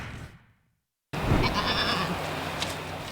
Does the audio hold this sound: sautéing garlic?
no